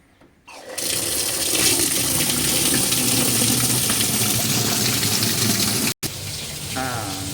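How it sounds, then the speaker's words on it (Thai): Tap water gushes into the wash tub of a faulty washing machine that fails to hold water, a loud, steady rushing pour close by that breaks off for an instant near the end and then resumes. "เดี๋ยวเราลองเปิดน้ำใส่ถังดูนะครับ"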